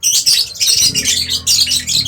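Pet birds chirping and tweeting inside a fairing cage, a busy overlapping chorus of bright calls that runs continuously and close at hand, with a low hum underneath.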